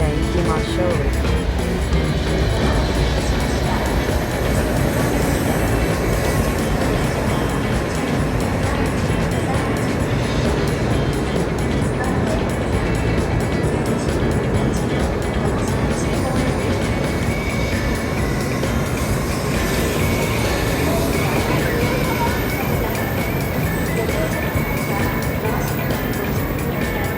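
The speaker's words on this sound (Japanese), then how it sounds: "列車は新水俣付近の走行中。" A Kyushu Shinkansen bullet train running near Shin-Minamata fills the whole stretch with a loud, steady, broadband rumble and rushing noise that never lets up.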